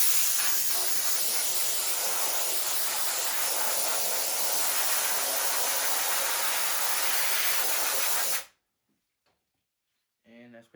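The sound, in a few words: air hose blowing on a screen printing screen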